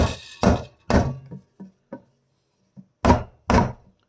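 A small hammer taps a part into a Telecaster-style guitar build, with sharp, close wooden knocks: two pairs of firm strikes and a few lighter taps in between, with no voice.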